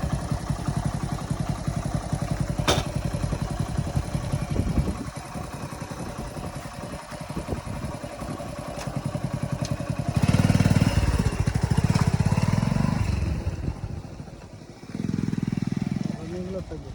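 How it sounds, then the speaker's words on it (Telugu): A twelve-year-old Hero Passion motorcycle with 80,000 km on it, treated with Sundar Carbon Antidote Plus carbon cleaner, runs close with a steady idle that swells louder midway and then settles. Someone talks over the engine. "ఇంజిన్ నాయిస్ కూడా మార్పు వచ్చేసింది"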